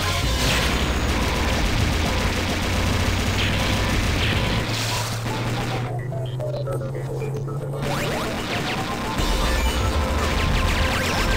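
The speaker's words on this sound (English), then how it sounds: "Shotgun." Shotgun blasts in the arcade game Metal Slug 6, dense and loud amid layered game effects, explosions and a steady music bed, with a brief quieter gap midway.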